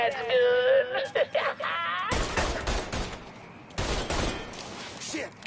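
Loud bursts of automatic gunfire in a Mafia 3 shootout come in two long volleys separated by a short gap, following a stretch of music and shouting voices.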